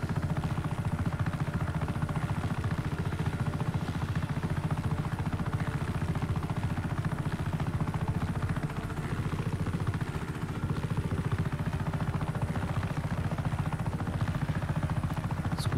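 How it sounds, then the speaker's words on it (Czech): A helicopter flies in the Just Cause 3 video game: steady broadband rotor and engine roar throughout, loud and continuous with only slight changes in pitch, and no talking. "Musím přistát s vrtulníkem, ať ho můžu používat, ještě by se mi mohl hodit."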